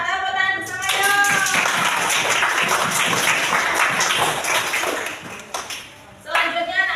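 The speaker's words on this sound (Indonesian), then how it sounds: "Tepuk tangan bersama yuk." Schoolchildren in a classroom clap together in a loud, sustained burst of applause lasting several seconds. A teacher's voice can be heard before and after the clapping.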